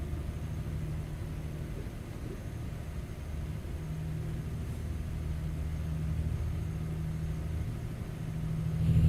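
A Caterpillar truck engine hums at a low, steady drone while cruising in a trucking simulator, rising slightly toward the end with no voices over it.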